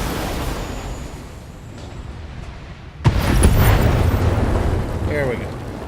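A turret blows up in the mech combat game Battletech: a sudden heavy boom about halfway through, then loud rumbling debris that trails off over low background noise.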